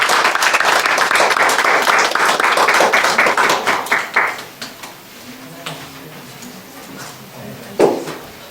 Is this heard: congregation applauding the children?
yes